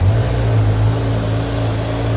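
A Kawasaki Z900 motorcycle engine runs steadily up close, a deep, even mechanical hum with a constant low throb and no talking throughout.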